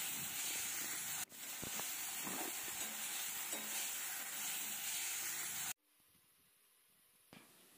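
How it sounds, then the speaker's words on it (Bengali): Ginger, cumin and chili paste being sautéed with fried tomato and onion, making a continuous close sizzle with stirring scrapes that cuts off abruptly and leaves a quiet hum. "এবার এটাকে কষিয়ে নেব।"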